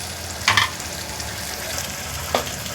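Green pea masala rice frying in a pan, a soft steady sizzle with two quick spoon scrapes against the pan, close by and without voices.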